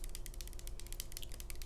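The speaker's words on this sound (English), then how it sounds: "I'm going to take a little bit of water and I'm going to spray this on your hair" A spray bottle mists water onto hair in a haircut setting, giving quick repeated hissing spritzes in a steady rapid rhythm, close and fairly quiet, with no voice.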